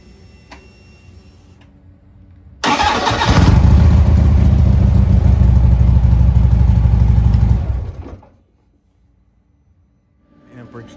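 A motorcycle engine cranking on a lithium battery that has been frozen below freezing: after a faint hum, the starter grinds loudly and steadily for about five seconds, then cuts off abruptly into near silence.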